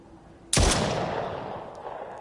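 A single loud gunshot fires in a VR video game, a sharp blast followed by a long, fading reverberant tail, with no talking.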